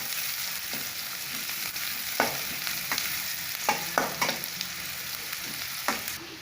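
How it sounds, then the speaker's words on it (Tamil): Sliced onions and curry leaves sizzle steadily in a hot pan for a spicy okra curry, with a continuous frying hiss broken by scraping stirs from a spoon, close and without talk. "நம்ம கட் பண்ணி வச்சுருக்க பெரிய வெங்காயம் சேர்த்துக்கலாம்."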